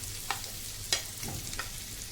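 Chopped raw banana pieces fry in a pan, giving a faint, soft sizzle broken by a few brief scrapes and clicks of stirring, with no voices.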